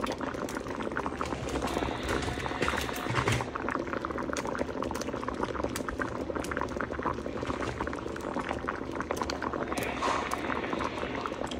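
Curry with lentil fritters bubbling steadily in a pot, a dense, even boil with constant popping and burbling, close and loud, with no voices over it.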